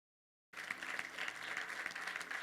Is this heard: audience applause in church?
yes